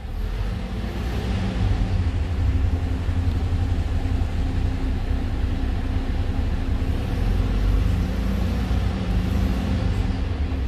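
A truck engine idles and is revved to refill its air tanks, a steady low diesel rumble with a gentle rise in level through the middle, close and continuous, no talk.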